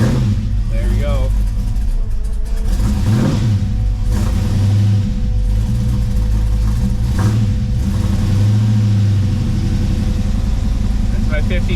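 A Pontiac Firebird running on a freshly swapped engine, idling with a steady low rumble and a few throttle blips, loud and close for the whole stretch, with a person talking over it.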